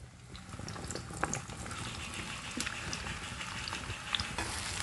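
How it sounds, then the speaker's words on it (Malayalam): Mango pieces sautéing in hot sesame oil for pickle, a soft continuous bubbling sizzle with scattered crackles and pops, fairly quiet and close, no voices. "നമുക്ക് ഈ എണ്ണയിൽ കിടന്നിട്ട് വഴറ്റിയിട്ട് വേണം ബാക്കിയുള്ള മസാലകളൊക്കെ ആഡ് ചെയ്യണമെങ്കിൽ"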